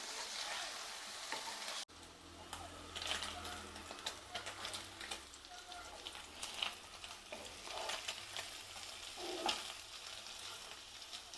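Paneer cubes fry in a pan with a continuous soft sizzle, broken by scraping and clinking as the pieces are turned over; the cooking stays close and fairly quiet, with no voices.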